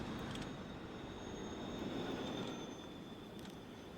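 Train running in Transport Fever 2, a steady low rolling rumble with a faint high whine on top, continuous and quiet throughout without any speech.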